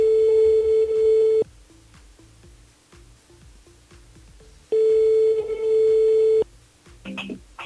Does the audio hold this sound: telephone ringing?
yes